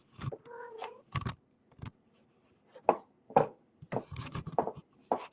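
A cat meows in several short, separate calls with pauses between them, close and fairly quiet, with a few soft taps and thumps mixed in.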